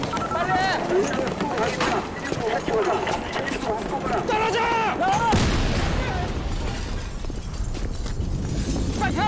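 Booming explosions and gunfire from a cinematic music video's war-like scene, loud and dense, with a sharp blast near the middle followed by rumbling debris and ringing, under talk and music.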